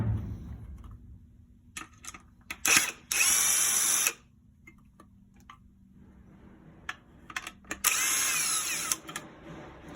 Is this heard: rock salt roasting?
no